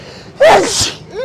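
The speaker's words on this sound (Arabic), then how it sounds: "وشي كيعطس." One loud, close sneeze bursts out with a quick intake of breath before it and a faint vocal sound just after.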